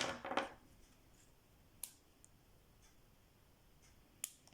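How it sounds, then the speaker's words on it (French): Small scissors snip embroidery thread in a quiet room, with two or three sharp, brief clicks spaced well apart and no talking. "Mes ciseaux sont là."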